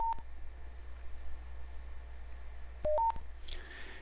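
Short site trunking alert tones beep from a two-way radio, a quick pair of chirps at the start and another few near the end, over a faint hum.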